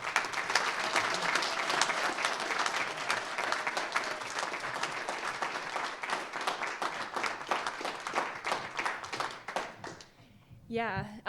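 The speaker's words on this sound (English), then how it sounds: "everyone give a really big hand of applause for Quinn." An audience at an environmental stewardship awards ceremony claps loudly and steadily for several seconds, the applause tapering off near the end as a voice starts to speak.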